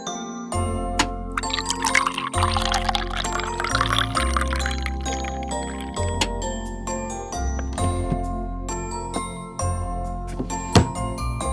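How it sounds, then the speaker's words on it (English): Water splashes and trickles over an octopus being washed by hand, with wet handling noises, light clinks and pouring sounds running steadily and close throughout. "First, we will wash the octopus with water."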